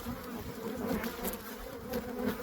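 Honeybees buzz steadily inside an opened hive during a mid-winter check, a close, continuous drone with faint irregular rustling throughout.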